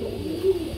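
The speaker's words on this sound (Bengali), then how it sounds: "দেখেন কবুতর গুলা, ইরানি হুমা, ইরানি বাগদাদি হুমা" Iranian Huma pigeons, Baghdadi Huma type, give a single short, low, soft coo heard close by in a brief moment.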